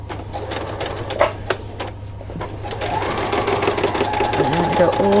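Sewing machine back stitching through layers of a doll coat, starting with a few slow clicks, then running into a steady rhythmic stitching whir. Muffled voices can be heard in the background.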